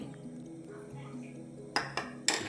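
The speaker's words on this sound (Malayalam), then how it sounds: "ആ സൺഫ്ലവർ ഓയിലൂടെ നമ്മളൊന്ന് മിക്സ് ചെയ്ത് വെക്കുന്നുണ്ടേ" A spoon scrapes and clinks against a bowl while cake batter is mixed with sunflower oil for a Christmas cake, three sharp metallic taps near the end after softer stirring, with someone talking over it.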